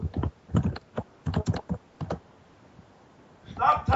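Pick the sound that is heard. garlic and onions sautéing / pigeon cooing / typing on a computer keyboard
typing on a computer keyboard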